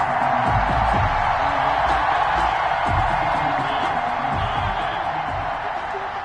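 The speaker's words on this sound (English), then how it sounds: "And the crowd went wild." A broad, steady roar of a stadium crowd cheering in a Madden NFL football video game, 49ers against Packers, loud and continuous after a missed field goal, with a commentator's voice faintly woven through.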